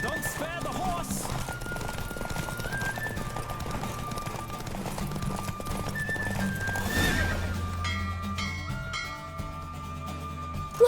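Hooves pound steadily at a gallop during a horse race in The Witcher 3 while a horse whinnies loudly partway through, over a busy layer of game music and effects.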